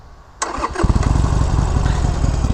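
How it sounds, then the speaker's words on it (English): A learner's motorcycle engine cranks and catches with a sudden loud burst, then settles into a rough, close, steady idle. "Start the bike."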